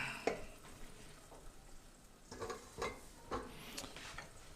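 A blended mixture goes into cooked tomato paste in a pot for jollof rice, giving a faint, steady sizzle with a few scraping stirs of a spoon spread across the moment, no voices present.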